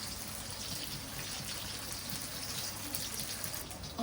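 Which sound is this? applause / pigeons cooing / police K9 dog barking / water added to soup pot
water added to soup pot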